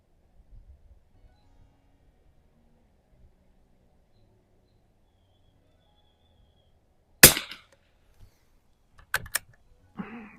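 A single sharp crack from a Mossberg 146BA rifle, fired with iron sights at 50 yards, breaks near-silence, followed a couple of seconds later by a few quick metallic clicks.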